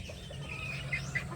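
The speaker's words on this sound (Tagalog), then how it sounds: "Itong mga sisiw." Backyard chicks peep softly in a few brief high chirps over a steady low outdoor rumble, faint and somewhat distant, with no talking.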